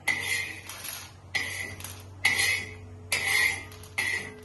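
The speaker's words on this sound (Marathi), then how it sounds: "आता हरभऱ्याची डाळ छान भाजून झाले, आता प्लेटमध्ये काढून घेऊया." Roasted chana dal is scraped from a pan onto a plate, giving bursts of metallic clinking and rattling from the spoon and grains in short repeated scoops, close and clear, with no talking.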